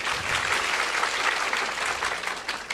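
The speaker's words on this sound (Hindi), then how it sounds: "सवाल के लिए तालियां बजाइए।" Audience applause at a spiritual discourse in Hindi, a steady wash of clapping from a seated crowd that holds fairly even for a few seconds.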